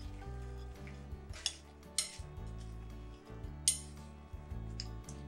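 A spoon stirs and scrapes through aloo chaat in a bowl, giving repeated metallic clinks and scraping strokes in an uneven rhythm, close and fairly quiet, with no talking.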